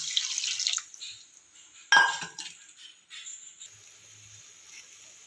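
Water is added to a dried-fish curry seasoned with chili powder in a pan. A sudden splash with a glassy clink starts it, followed by a softer trickling that fades, all close up and quiet.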